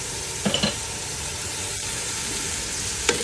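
Pork and garlic fry in a pan for chop suey, giving off a steady close sizzle with a few light clicks of utensil stirring against the pan.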